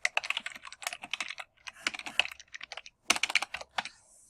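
Someone types in quick bursts on a computer keyboard. The clicks are crisp and fairly close, with brief pauses between the runs of keystrokes.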